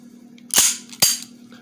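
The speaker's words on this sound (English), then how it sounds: "what it is they shoot metal BBs through CO2 tanks that are usually in the magazine or in the gun" Two sharp, close pops about half a second apart from a CO2-powered airsoft gun firing metal BBs, each a crisp snap over quiet background hum.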